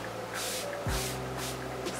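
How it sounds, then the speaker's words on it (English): Several short hissing bursts of Beauty Mist setting spray, evenly spaced and close by, over a quiet background with a low hum. "Last step is setting spray."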